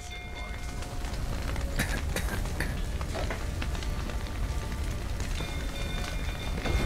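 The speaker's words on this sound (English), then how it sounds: "Looks like rain." Rain falling in The Witcher 3, a steady dense patter and hiss of drops on surfaces, fairly close and continuous, with a few sharper ticks and faint tonal game sounds underneath.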